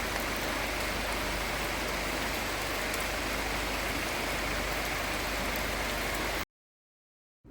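Steady rain pours down in a forest beside a huge teak tree on the Anamalai to Parambikulam route, a dense, even hiss that runs unbroken for several seconds before cutting abruptly to silence.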